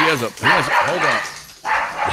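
A small Maltese dog yaps and whines in short bursts close by, mixed with lively talk from people in a live setting.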